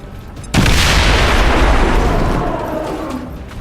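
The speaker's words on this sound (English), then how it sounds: "It's a claymore combined with a grenade." A claymore and grenade go off together in the video game XCOM 2: one sudden loud boom, followed by a long, heavy rumbling decay that fades slowly.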